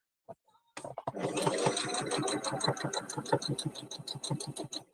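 A sewing machine stitches soft, very movable fabric for a teddy bear, running close and steady with a fast rhythmic needle clatter after a brief pause at the start.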